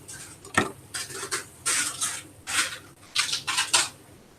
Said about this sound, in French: Je mélange avec les sucres qui sont dans le fond de la poêle